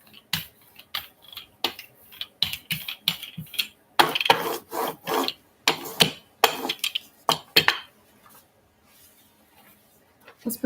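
Paint scraped onto a mono-print, a series of close, dry rasping strokes in irregular bursts, some longer and louder, separated by brief quiet gaps.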